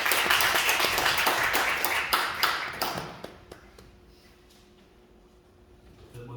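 Audience applause welcoming a professor to the stage at a university theology retreat, loud steady clapping for about three seconds that fades out into quiet room tone.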